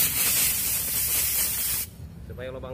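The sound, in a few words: spraying cleaner on Honda Vario 150 magnet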